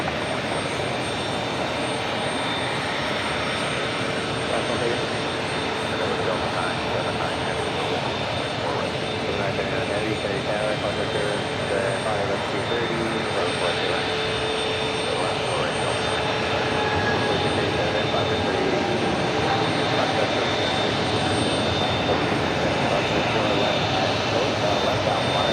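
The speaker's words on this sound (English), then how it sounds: "we're going to get drowned out by this A380, and I don't mind as this Lufthansa A380 heads to the other A380 gate" A Lufthansa Airbus A380 taxis toward its gate at New York's JFK Airport, its jet engines producing a loud, steady, broad roar that holds without a break and swells slightly toward the end.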